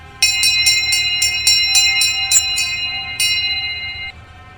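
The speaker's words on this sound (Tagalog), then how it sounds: "Kinuha din niya ang Sanctus Bell at pinatunog." A Sanctus bell rung in a monastery, a bright metallic hand bell struck in a rapid run of about nine clear rings with a shimmering overlapping tone, then one last strike left to ring out and fade.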